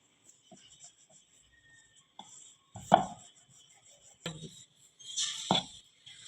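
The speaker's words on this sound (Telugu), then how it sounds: "ఇలా కట్ చేసుకోవాలండి చాకుతోని ఈ విధంగా ట్రయాంగిల్ షేప్ వస్తుంది" A knife cutting wheat biscuit dough into triangles on a board, making a few sharp separate taps and thuds spaced a second or so apart, fairly close against a quiet background.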